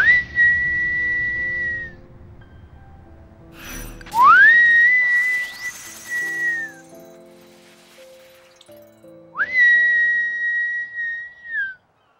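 Whistling inside the Final Fantasy X-2 video game, a clear rising note that holds steady in three separate bursts, the middle one sliding up to a higher overtone, with quiet game music underneath.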